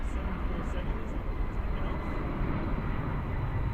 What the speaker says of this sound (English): you might hear a big fighter jet taking off on the airfield